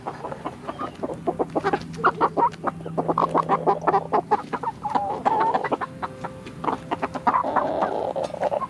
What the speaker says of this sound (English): the others in here are silkies, mostly silky roosters